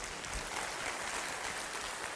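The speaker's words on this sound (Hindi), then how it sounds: "तालियां" An audience at a talk on managing memory claps together in a steady wash of applause, an even, dense patter of many hands with no voices over it.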